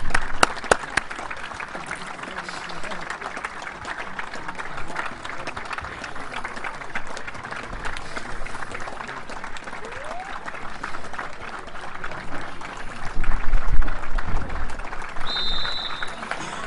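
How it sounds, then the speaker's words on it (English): Crowd applause at a local football match between Broadford United and St Michael's, a sustained outdoor clapping tribute with a thicker swell near the end and faint voices in the background. "A lovely round of applause there for the late Derek O'Shea"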